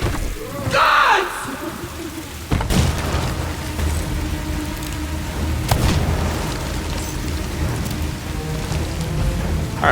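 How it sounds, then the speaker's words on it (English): Cannons fire in a video game, two heavy booms landing a few seconds apart over a constant rain-like hiss and rumble of ambient noise. "once you've killed everyone that's shooting cannons at you"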